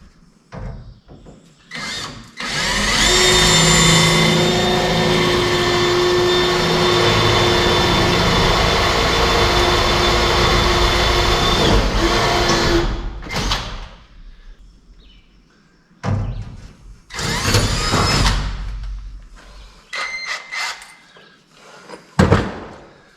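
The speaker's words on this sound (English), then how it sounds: "I have to drill a hole through the track and through that bracket I just" A power drill with a 7/16 bit bores through a steel overhead garage door's horizontal track and a homemade bracket, giving a loud, steady whine for about ten seconds, followed by shorter bursts of drilling and clanking.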